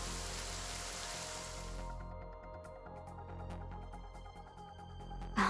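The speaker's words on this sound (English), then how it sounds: "It's raining?" In a video game, steady rain falls as a dense, hissing wash that softens after a couple of seconds into scattered pattering drops and light ticks over a low rumble, with no voices.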